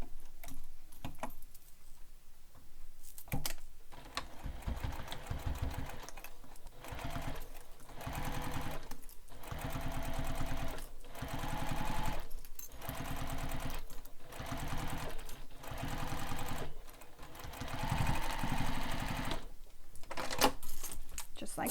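A sewing machine stitches bag fabric at regular stitch length, a rapid ticking whir running in repeated stretches broken by short pauses while a person talks in between.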